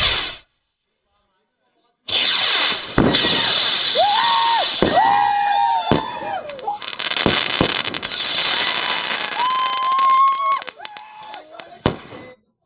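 A Diwali firework rocket is lit and then bursts, with whistling rising tones, sharp bangs and crackling over loud outdoor background noise, along with crowd sounds and voices.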